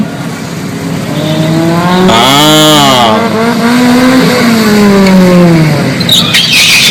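An Isuzu ten-wheel truck at a racing event blips its engine while shifting gears, giving loud, close revs that rise and fall in pitch several times in quick succession.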